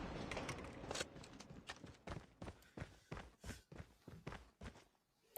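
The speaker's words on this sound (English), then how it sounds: "They're gonna hear Bit's footstep." Footsteps in Call of Duty Mobile during a tense competitive round, a run of crisp, evenly spaced steps that grow distinct and fairly close, with ambient game noise fading underneath.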